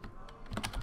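Typing code on a computer keyboard while scripting traffic and pedestrian density for FiveM, heard as a short run of close, brisk key clicks with a few louder strikes near the end.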